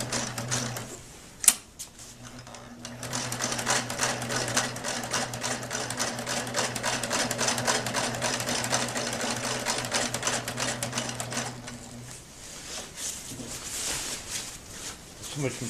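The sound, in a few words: sewing machine stitching a tarp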